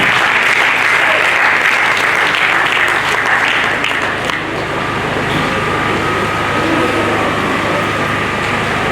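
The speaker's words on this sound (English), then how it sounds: "With a clapping ovation, let's welcome Professor Oliver Onah." Conference audience applauding loudly and continuously, a dense wash of many hands that eases slightly partway through and carries on steadily to the end.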